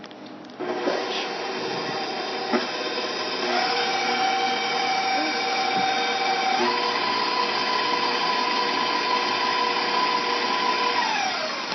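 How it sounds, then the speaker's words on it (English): An electric stand mixer kneads pretzel dough with a dough hook: a loud, steady motor whir starts within the first second and runs continuously with a faint rhythmic churning underneath. "there's a lot of start and stop when you're using the dough hook, because it purposely is not trying to get the sides"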